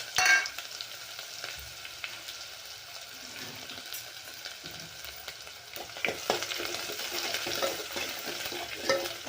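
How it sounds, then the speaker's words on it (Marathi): Two chopped onions fry in hot oil with a spoonful of mustard seeds for pav bhaji, giving a steady close-up sizzle and crackle that swells louder in the final seconds, with no one talking. "आणि 2 कांदे कापलेले ते पण मी छान मस्त तळून घेणार आहे आता."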